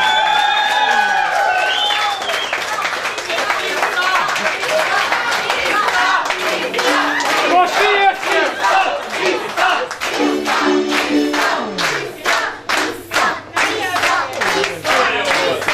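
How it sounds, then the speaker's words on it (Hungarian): Wedding guests applauding a young couple's first dance, with cheering and shouting at first, then rhythmic clapping that thins out into scattered claps toward the end, close by. "Nagy tapsot fiatal párnak!"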